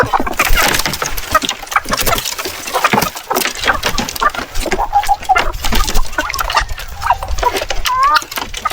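Native heritage hens cluck and squawk in short, irregular bursts close by on a farm, amid rustling and scattered background noise.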